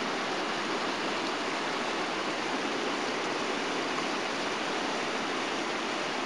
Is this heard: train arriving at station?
no